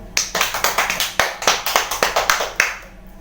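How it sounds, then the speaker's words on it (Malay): A small classroom group claps for its own members, a quick run of about a dozen crisp, close hand claps in an even rhythm that stop abruptly, leaving near silence. "Jadi berikan tepukan untuk diri masing-masing"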